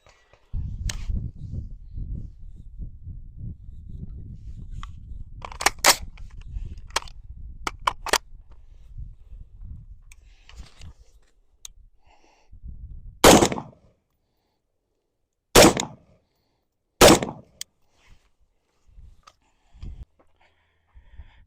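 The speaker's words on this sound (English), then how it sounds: "we're going to see what happens when I break these 3 rounds, putting my dot on the circle I drew" Three loud, sharp rifle shots fired at a target 5 yards away, spaced a couple of seconds apart, following a stretch of close handling and shuffling noise.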